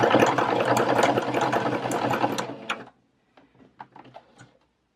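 A home sewing machine runs in a steady whir for close to three seconds while stitching bralette fabric, then halts, leaving a few faint clicks and taps of handling.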